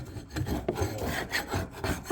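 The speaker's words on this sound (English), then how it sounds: "I'm still scraping." Scraper rubbing and rasping against a wall to strip old paint in a 1934 fixer-upper house, a steady close scratchy texture with repeated strokes and no talking.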